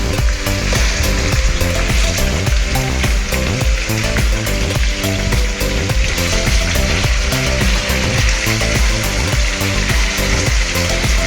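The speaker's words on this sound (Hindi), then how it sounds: "लहसुन के अंदर चिकन की 5 मिनट तक भुनाई होगी।" Constant loud sizzling and crackling of chicken frying in garlic in a hot pan for biryani, with rhythmic scraping and stirring clatter throughout.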